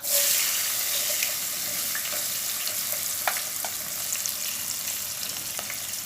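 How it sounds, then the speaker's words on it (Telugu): Coarsely cut onion pieces fry in a hot pan for an okra curry, giving a steady bright sizzle throughout with scattered small pops and crackles, close and fairly loud, with no talking. "నేను ఉల్లిపాయ ముక్కలు వేసేస్తాను"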